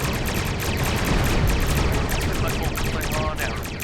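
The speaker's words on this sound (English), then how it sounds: "Concentrate fire on the remaining vessels." Starship weapons fire from Star Trek Online: a dense, continuous barrage of rapid energy bursts and explosions that stays loud throughout, layered with battle noise.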